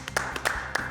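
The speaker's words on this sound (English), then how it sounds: "I think it also deserves a round of applause." A few scattered claps ring out for a contestant in a cooking competition kitchen, sparse and fairly quiet, four or five distinct hand strikes rather than full applause.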